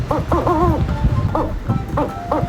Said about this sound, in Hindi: आउल की साउंड जानते हैं कैसी होती है?